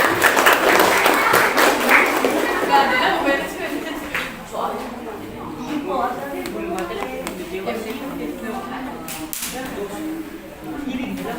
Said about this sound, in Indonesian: Boleh yang lainnya tepuk tangan